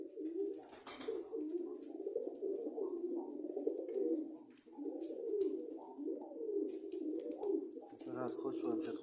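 A pigeon coos repeatedly near its nest inside a cage, the soft rolling calls heard close, with a person talking at times.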